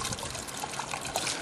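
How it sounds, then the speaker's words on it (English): Water on a flat roof trickles and gurgles as a plugged roof drain starts taking it in, a brief, close and steady burble with no voices. "Here's my drain just starting to pick the water up now."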